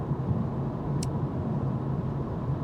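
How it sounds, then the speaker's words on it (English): Road noise inside a 2025 BMW 228 xDrive Gran Coupe: a steady, broad low rumble and hiss from the tires and the cabin with no speech, broken once by a brief sharp tick. "I'm very surprised by the amount of road noise on this car"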